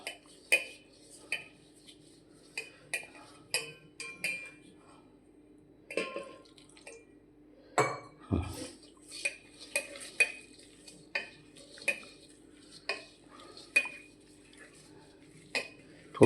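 A spoon clinks and scrapes against a bowl in sharp, irregular taps while water is mixed into sweet potato fritter batter, quiet spaces between strokes.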